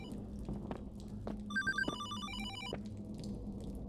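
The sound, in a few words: telephone ringing in the video game Hollowbody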